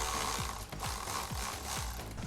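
A ratchet wrench works E6 screws loose from the coolant reservoir of a BMW G80 M3 with S58 engine, producing a quick rhythmic series of close clicking sweeps, about five strokes in a row.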